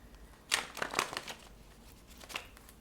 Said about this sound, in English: Gotta get a good shuffle.